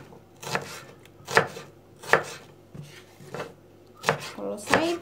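Onion being chopped with a knife on a cutting board in a home kitchen, about seven separate sharp chops at an uneven pace, close and fairly loud, with no talking.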